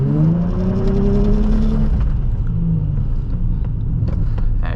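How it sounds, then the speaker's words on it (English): A 2002 Nissan 350Z's V6 revs hard through a wheel spin, the engine note climbing and then falling away into a loud, steady rumble that carries on throughout. "Just do a little wheel spin"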